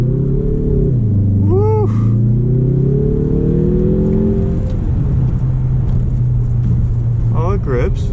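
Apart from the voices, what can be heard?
2021 Mazda 3 Turbo engine revving during launch from stop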